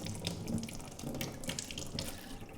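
Lukewarm water runs steadily from a tap as it is readied for cleaning brushes, a close and fairly quiet continuous splashing stream heard alone.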